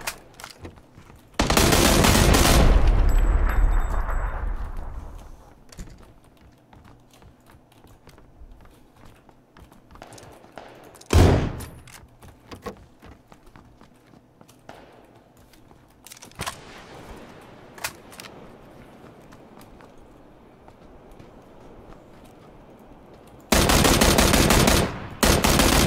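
Gunfire in PUBG at Hacienda Del Patron: a loud burst of shots opens, then a single sharp crack mid-clip, a fainter shot later, and another loud burst at the end, with quiet stretches between.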